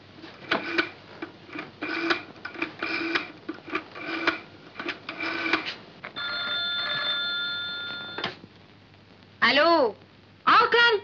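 A telephone bell rings in a steady sustained burst for about two seconds, set between stretches of talking and followed by a voice.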